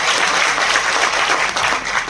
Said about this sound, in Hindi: जोरदार ताली बजा करके इनका स्वागत करिए